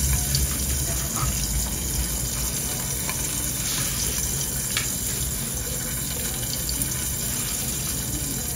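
Pomfret fish fries in a pan with a steady, dense sizzle close up, with faint sounds of movement in the background.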